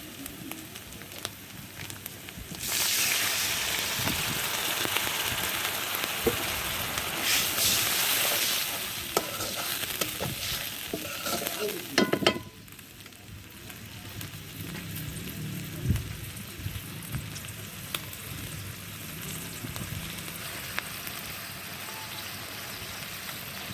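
Water poured into frying onion, garlic and ginger paste makes the pan flare into a louder, steady sizzle. The hiss bubbles on and eases slightly over time.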